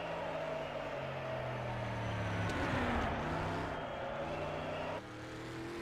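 Quiet steady engine drone from a Subaru rally car coming down the Isle of Man mountain road in a time trial, swelling slightly midway and then easing off, with no voices.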